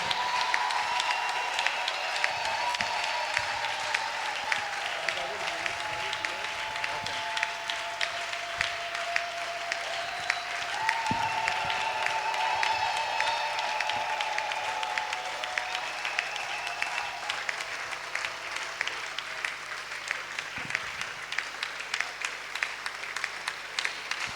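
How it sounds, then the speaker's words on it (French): A church congregation welcoming pastor Benjamin of Dalo Ministries, filling the hall with long, steady applause and crowd noise heard at a distance, with quiet music tones sustained beneath it. "On peut acclamer haut et fort."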